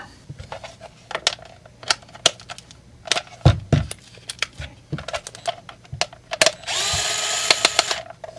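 A power drill backs screws out of a plastic blower housing, giving repeated short bursts of whirring, and one longer sustained run of drilling near the end, all close and clear with no talking.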